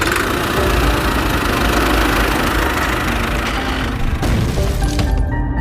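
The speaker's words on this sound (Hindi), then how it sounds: "सॉन ट्रैक्टर को स्टार्ट करता है" A cartoon tractor engine roars steadily and loudly the whole time, a dense idling rumble with a knocking quality that shifts slightly near the end, with no voices.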